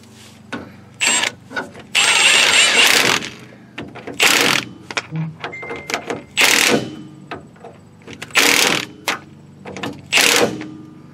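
A ratchet wrench with a 17 mm deep socket tightens a lower ball joint nut on a 1995–2004 Toyota Tacoma, sounding as repeated bursts of rapid clicking separated by short pauses, close and fairly loud.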